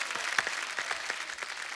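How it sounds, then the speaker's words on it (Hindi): A studio audience on a television comedy talk show claps for arriving guests, fairly faint scattered applause with some distinct individual claps standing out. "एक बार जोरदार तालियां हो जाए हमारे मेहमानों के लिए।"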